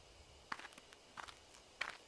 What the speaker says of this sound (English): There were footsteps again.